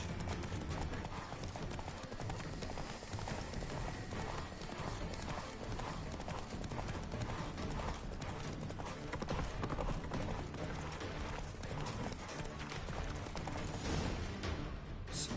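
Hooves of the horse Roach in a video game clip-clop at a steady trotting rhythm over continuous ambient game sound, with a brief whinny-like cue.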